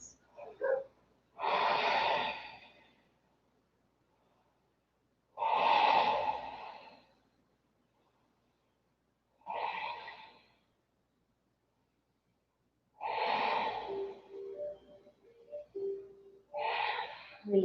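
An Ashtanga yoga practitioner breathes in a forward fold, with five long, audible breaths spaced by silent gaps, close and fairly soft.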